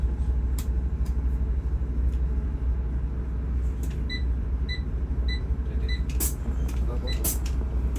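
Steady low engine rumble inside a Legend Nusantara Super Executive coach on the Bandung–Semarang route as it pulls away after a battery charging fault. Scattered short electronic beeps sound over the continuous drone.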